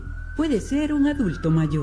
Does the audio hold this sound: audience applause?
no